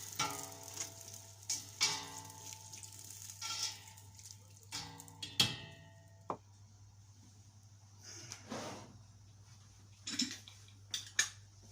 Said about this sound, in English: After I pour the tomatoes, I will now turn it to mix with the onions